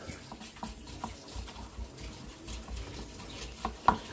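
Maseca being whisked with warm water into a paste for green chile sauce, with soft irregular wet clicks and scraping in a bowl, close but fairly quiet, with no talk.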